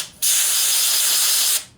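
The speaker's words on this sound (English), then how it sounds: "So I'll just spray some carburetor cleaner in there and blow it out here." Carburetor cleaner sprayed and blown through the passageways of a Briggs & Stratton 18.5 hp V-twin OHV Intek lawnmower engine carburetor: one steady, loud hiss lasting over a second, starting and stopping abruptly, with no talk.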